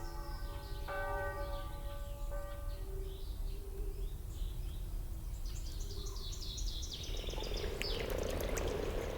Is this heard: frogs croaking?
yes